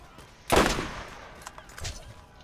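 Single sharp gunshot in the shooter game Borderlands, a loud crack with a short decaying tail, followed by fainter scattered impacts and clatter.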